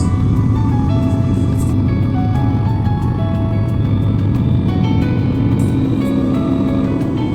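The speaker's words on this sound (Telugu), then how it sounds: "Now flight is ready to take off" A passenger airliner bound for China waits for takeoff, heard from inside the cabin as a loud, constant engine and ventilation drone with faint tonal whines and no talking.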